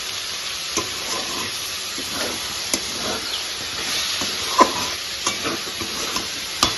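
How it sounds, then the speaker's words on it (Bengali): Spices sizzle and fry in a hot pan for a jackfruit curry while a spoon scrapes and stirs, with occasional sharp taps against the pan over a constant hiss. "সমস্ত মশলা দিয়ে দিয়েছি এবার ভালো করে কষিয়ে দেবো"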